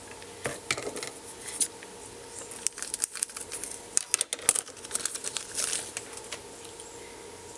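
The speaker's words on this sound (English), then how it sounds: "the test leads, which we've got over here in this bag, which I gotta cut open" Plastic bag holding oscilloscope kit test leads being cut open at a workbench, a run of close crinkling, rustling and sharp snipping bursts that come and go irregularly, no talking.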